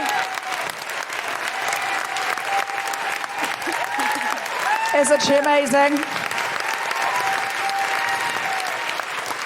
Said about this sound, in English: This is some strong work on the applause, Stratford-upon-Avon